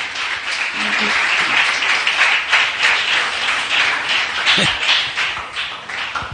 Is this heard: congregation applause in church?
yes